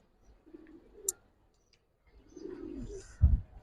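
Giribaz silver pankhi pigeons coo quietly in two short bursts separated by a pause, ending with a louder low thump, close by, with a sharp tick in between.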